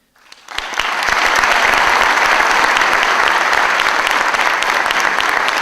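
Loud, dense applause from a large crowd gathered for an Obrenovac Liberation Day event, welcoming politician Aleksandar Vulin to the stage; the clapping rises within the first second and then holds steady and sustained to the end.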